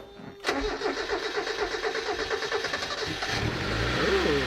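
A Mazda Miata fitted with a 12A rotary engine cranks and catches, settling into a loud, steady idle with a rough pulsing rhythm, heard close up and without voices.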